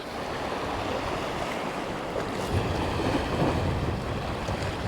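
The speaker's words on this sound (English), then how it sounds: "There's a really big swell picking up. I think this is due to the outgoing tide." Heavy sea swell surging against a rocky shoreline at outgoing tide, with strong wind buffeting the microphone; a continuous, loud roar of water and wind with no talk.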